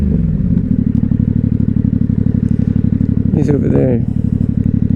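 A large group of motorcycles rides together, their engines a steady, close rumble and clatter throughout, while a person speaks briefly over the noise near the end.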